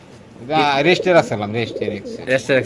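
Pigeons coo nearby in repeated low, throaty, rolling calls, several in close succession.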